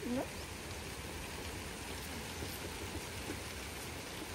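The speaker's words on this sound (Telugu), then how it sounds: "వర్షం చూడండి, సమ్మర్లో వర్షం పడితే ఎంత బాగుంటుందో" Summer rain falls in a home garden as a soft, steady patter and hiss, faint and continuous throughout, with a brief higher tone at the very start.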